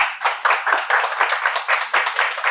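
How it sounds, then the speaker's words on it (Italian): An audience applauds after an academic talk on proof in education, a short burst of dense, close clapping that stays fairly even throughout. "Un applauso a Francisco."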